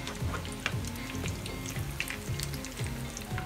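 Tandoori chicken cutlets sizzle steadily in a hot pan, a close, continuous frying crackle with small pops and brief stirring scrapes, no voices.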